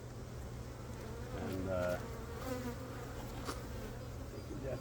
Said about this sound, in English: As you can see, all the bees,